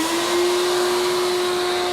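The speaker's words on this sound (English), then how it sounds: "Here goes the vacuum. It's kind of loud." A vacuum cleaner runs loud and close with a steady droning whine and a strong constant tone, used in a workshop setting for cutting arrows.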